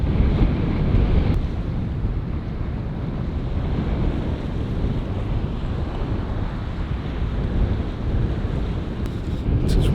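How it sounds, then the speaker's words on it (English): Loud, constant wind roaring and buffeting the microphone on the coast, with a broad rushing noise like surf underneath, steady throughout with no voices. "Windy as hell down here"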